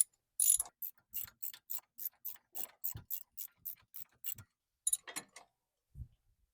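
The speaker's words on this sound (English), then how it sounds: "we'll come in on this side with our socket and tighten it this way" Socket ratchet tightening brake caliper bolts on a Chevy Silverado: a close, crisp series of rapid clicking pawl ticks in quick bursts, pausing briefly before a final few clicks and a light knock.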